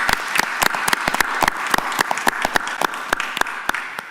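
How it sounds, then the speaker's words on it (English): A crowd at a county board of commissioners work session breaks into applause for a guest's mother, with dense, sharp claps running continuously throughout at close range. "give your mom another round of applause"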